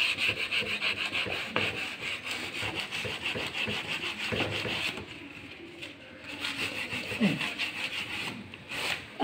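Continuous hand sanding on a wooden coffee table, a gritty scrubbing rhythm heard up close, easing off briefly midway before resuming.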